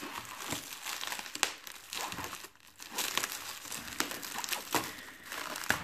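Cardboard packaging for a 1:18 scale Toyota Highlander 2015 model car being cut open, heard as close, quiet crinkling and scraping with a few sharp snaps, and no talking.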